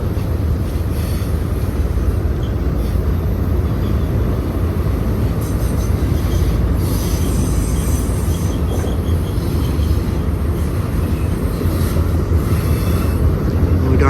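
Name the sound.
freight train passing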